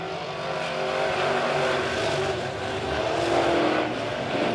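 Midwest Modified race cars roar as they accelerate together on a restart at Springfield's oval, a dense engine howl rising and falling as the pack builds speed, fairly close and continuous with no voices.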